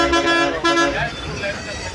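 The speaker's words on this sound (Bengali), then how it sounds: "কানের করে গিয়ে হর্ন বাজাচ্ছে এমনি বাসের ড্রাইভার" A bus horn on a ride from Pondicherry to Villupuram blares in two loud, sustained harmonic blasts with a short gap between them, then fades into road noise.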